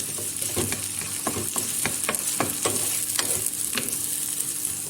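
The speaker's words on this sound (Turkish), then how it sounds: "Ve soğanı bir güzel kavuruyorum." Chopped onion sautéing in oil in a pan for soup, a steady loud sizzle with repeated sharp scrapes and clicks of a utensil stirring through it, no voices.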